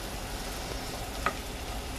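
Garlic searing in a pan for beef stroganoff gives a soft, even sizzle throughout, with one faint tap of a utensil midway, quiet and close with no voices.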